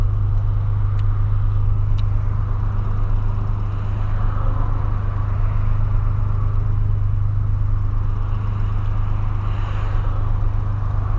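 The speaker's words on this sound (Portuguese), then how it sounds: "Acelerando desse jeito aqui, dá um combustível lascado também." A VW Polo fitted with a sports exhaust holds a loud, close, sustained engine drone with a deep rumble and no real pauses, with no speech over it.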